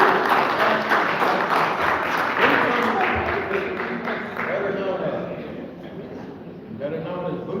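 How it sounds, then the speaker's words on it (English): A community audience at a candidates' forum applauds a speaker being brought up, broad steady clapping mixed with cheers and crowd voices, fading a little toward the end. "Give her a round of applause."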